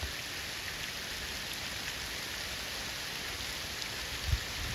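Steady rain falling outdoors, a dense even hiss of drops with no talk and one faint low thump near the end.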